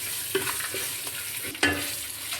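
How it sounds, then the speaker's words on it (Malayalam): Fish curry ingredients with salt stirred in a hot pan: a steady close sizzle with a few scraping spoon strokes and one sharper clack near the end. "എന്നിട്ട് വീണ്ടും നമുക്കതൊന്ന് നന്നായി ഇളക്കി കൊടുക്കാം"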